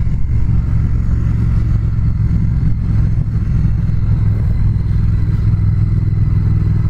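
A 2019 Triumph Speed Twin motorcycle on the move, its engine a loud, steady low drone with rushing wind and road noise throughout, and no talk.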